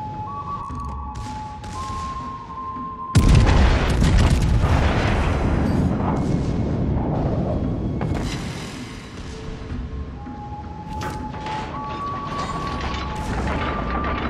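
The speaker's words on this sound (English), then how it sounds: "Destroyer blown up." A destroyer is blown up in the naval game World of Warships Legends: a sudden loud boom bursts in and rumbles on, with further explosion and gunfire sounds under a steady game soundtrack.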